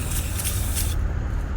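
Short hissing bursts of cleaner sprayed onto the threads of an oil drain plug from a 2024 Kia Carnival, close, loud and steady before cutting off, with nobody talking.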